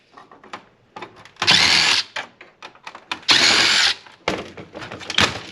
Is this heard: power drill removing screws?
yes